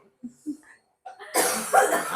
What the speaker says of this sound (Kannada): ಆಂಟಿಗೆ ಪಾಪ ಕೆಮ್ಮು